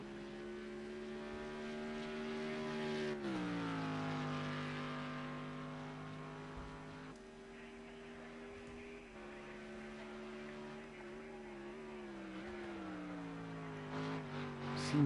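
A Mercedes GT3 race car lapping in a racing video game, its engine droning in a steady high whine that dips and climbs as it brakes and accelerates through corners, continuous and without talk.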